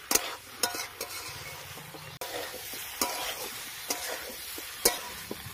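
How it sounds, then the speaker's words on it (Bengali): Fried potato and jackfruit stir-fried with spices in a pan, with soft, steady sizzling broken by sharp scraping and stirring clacks every second or so, close up and with no talking. "এর মধ্যে এবার ভেজে রাখা আলু আর এঁচোড়টা দিয়ে দেব, মশলার সাথে সবকিছু ভালো করে কষিয়ে নেব।"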